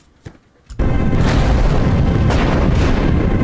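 Gunfire and booming blasts from the PC House of the Dead Remake, a dense, loud sustained barrage after a couple of brief thuds at the start.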